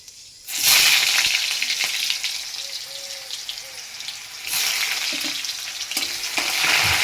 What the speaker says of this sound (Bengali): পেঁয়াজটা ভাজতে থাকি